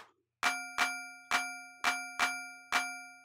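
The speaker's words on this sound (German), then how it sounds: "das Ganze hört sich jetzt hier in diesen Einstellungen im Prinzip so an, als würde da irgendeine Art von Glocke oder so angeschlagen werden" A clap sample in Ableton Live strikes a Corpus beam resonator and rings out like a struck metal bell. Seven clear, evenly spaced dings sound alone, each with a bright tonal ring that decays before the next hit.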